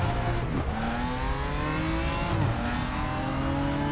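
GT4 Porsche race car engine in the sim racing game RaceRoom, a steady loud drone with rising and falling revs through gear changes, sustained close up throughout.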